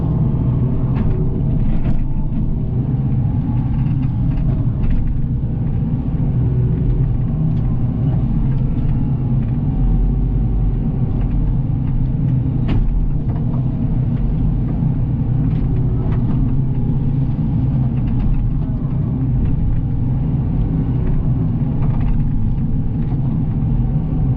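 A machine's diesel engine idles steadily while warming up, giving a continuous low rumble that holds level throughout, close by and with no talk.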